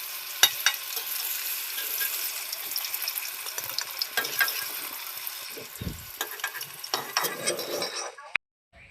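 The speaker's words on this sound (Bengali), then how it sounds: "এবার কড়াইতে তেল গরম করে সিদ্ধ করা আলুগুলো দিয়ে দিচ্ছি" Boiled potatoes frying in hot oil in a wok, with a crackling sizzle, scattered clinks and scrapes of a spatula, and a few sharper pops, ending abruptly.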